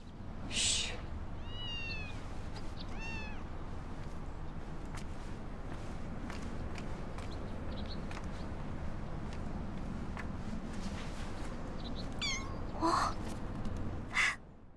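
A few thin, high kitten meows sound at intervals over steady low background noise, with a couple of sharper calls near the end.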